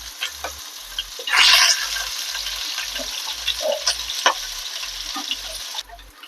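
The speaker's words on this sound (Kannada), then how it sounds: "ಇವಾಗ ಒಂದು ಸೈಡಿಂದ ಫ್ರೈ ಮಾಡ್ಕೊಂಡಿದ್ದೀನಿ. ಇವಾಗ ಈ ಥರ 5 ನಿಮಿಷ ಫ್ರೈ ಮಾಡ್ಕೊಳ್ಳೋಣ." Fish frying in a pan on the stove for a dal tadka fish fry, a steady close sizzle with a brief louder burst of crackling early on and faint light clicks, with no talking.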